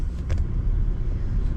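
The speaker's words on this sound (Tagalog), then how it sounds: "Traffic sa ring road yan," Continuous low rumble of congested ring road traffic in the evening, a steady nearby engine drone with a few brief higher noises early on, no talking.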